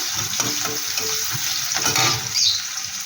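Sliced onion goes into hot oil in a pan for a fish and bottle gourd greens dish, frying with a continuous close sizzle and faint scraping stirs throughout, no talking.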